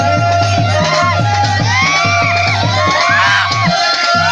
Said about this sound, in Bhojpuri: तालियां तालियां तालियां हो जाए हमारे भाई के लिए। जोरदार तालियां है।